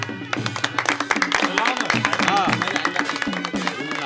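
Wedding guests applaud together during a garland and ring exchange, with scattered claps over festive music and people talking.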